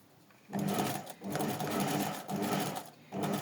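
A sewing machine stitches fabric and backstitches, running in four loud, close bursts of fast rhythmic needle clatter with brief pauses between them.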